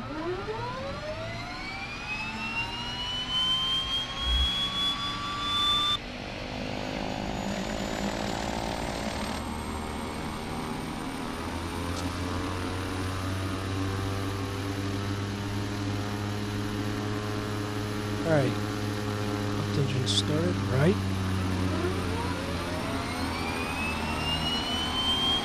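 An airliner's left engine spools up in Microsoft Flight Simulator X, rising whines and tones sweeping upward over a steady rumble, settling into a sustained jet hum with a few more rising sweeps later.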